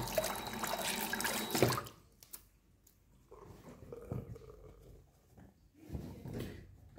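Running tap water splashing over hands during a manual razor shave, a loud steady gush for about two seconds, then quieter intermittent trickles and dribbles with soft handling noises.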